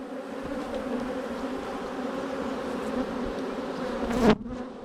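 Honeybees on wax hive frames hum in a dense, steady drone close by, with one brief loud buzz as a bee passes the microphone near the end.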